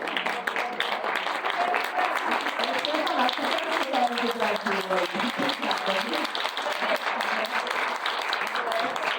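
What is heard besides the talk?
applause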